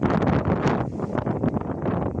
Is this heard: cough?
no